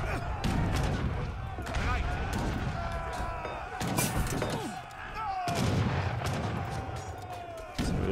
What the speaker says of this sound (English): Letting the cannon do the work.